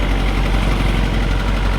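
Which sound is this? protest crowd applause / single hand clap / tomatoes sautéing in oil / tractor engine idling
tractor engine idling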